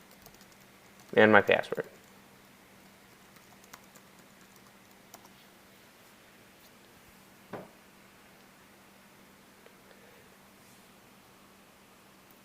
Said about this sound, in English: I'll go ahead and type in my name here, my email address,